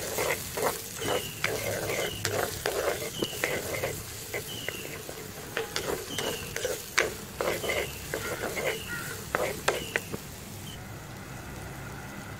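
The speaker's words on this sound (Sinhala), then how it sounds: "අපිට පුළුවන් ඒක පොඩ්ඩක් කලවම් කරගන්න" Ginger and chopped red onion with salt frying in a pan while being stirred, a steady sizzle broken by repeated scraping spoon strokes, close and fairly loud throughout.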